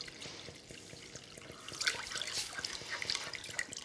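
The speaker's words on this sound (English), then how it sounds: "some vegetable stock. So I have this in the jug. We're just going to pour this right in here." Vegetable stock poured from a jug into a cooking pot gives a faint, soft trickle and splash that swells midway, with no talk.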